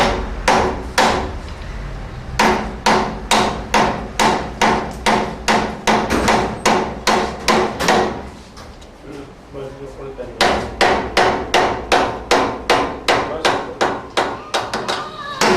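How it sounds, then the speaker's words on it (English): Steel hammer striking the handle of a strong screwdriver to loosen a stuck screw on a device: sharp, loud, evenly spaced blows in rapid bursts, with a short pause midway before the rhythmic tapping resumes. "you use a strong screwdriver and you use a hammer and do like this"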